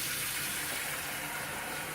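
Water pours steadily from a tap into a cooking pot for risotto broth, a continuous close splashing rush with no talk.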